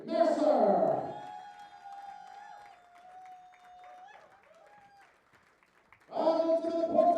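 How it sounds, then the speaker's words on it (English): Applause from a darts championship crowd at the WDF 2024 World Championship, a dense roar of clapping at the start that fades into a quiet stretch with faint voices before a second loud burst of applause at the end. "Ladies and gentlemen, a massive round of applause for Desi Mercer."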